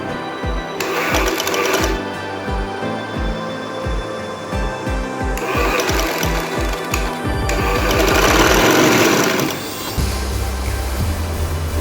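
A sewing machine stitches lace onto a trouser hem in loud, rapid mechanical bursts, with short pauses and changes of speed between runs.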